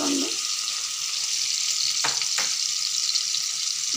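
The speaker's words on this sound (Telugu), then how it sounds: "దీంట్లో అల్లం వెల్లుల్లి పేస్ట్ వేస్తున్నాను" Ginger garlic paste fries in a pot of goat leg soup, giving a continuous close sizzle with a couple of brief stirring scrapes partway through.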